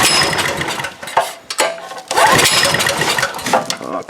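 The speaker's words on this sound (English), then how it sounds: "We'll pull the choke and see if she works." A small gasoline engine with its choke pulled is pull-started repeatedly, each yank of the cord giving a brief sputtering, rattling burst as it tries to catch but does not settle into a steady run.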